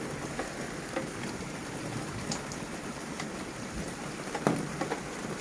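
Steady rain patters on surfaces outdoors, with scattered sharper drops and a soft continuous wash of rainfall around potted succulents.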